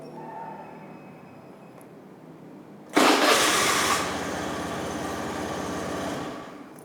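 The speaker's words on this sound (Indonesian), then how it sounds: "suara pengoperasian starter konvensional" A motorcycle engine cranks on a conventional starter motor with a sudden loud, rough grinding burst, then settles into a steady mechanical churn for several seconds before easing off.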